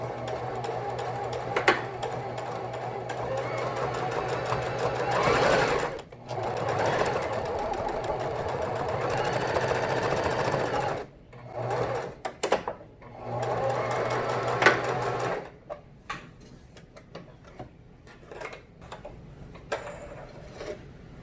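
A sewing machine stitches a fabric face mask with a filter pocket, running forward and reverse in several close bursts of steady mechanical whirring separated by short pauses.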